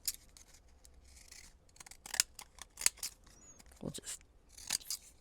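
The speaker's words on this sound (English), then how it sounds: "I've never had a decorative pair of scissors that worked like" Fiskars decorative-edge scissors snipping through paper, a series of close, sharp crunching cuts in uneven bursts, with a brief spoken phrase partway through.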